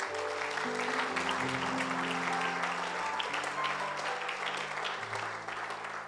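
A church gathering audience applauds steadily, a dense, even wash of clapping that fills the room for several seconds, with music playing underneath.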